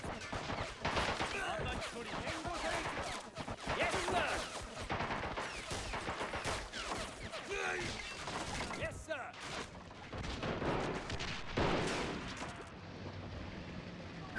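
Artillery and gunfire boom and crack in a WWII video game match. Repeated bursts and impacts come at irregular intervals, mixed with players talking over the battle noise.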